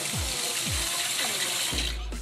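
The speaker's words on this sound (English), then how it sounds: "That water faucet. Turn that on. Put you some water in there." Water from a tap pours into a container being filled to the top, a steady broadband rush that runs the whole time with some low thumps and faint background sound.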